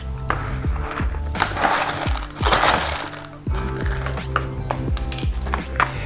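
Juniper berries and pepper crushed in a mortar and pestle, with repeated grinding and knocking strokes heard close up and alone.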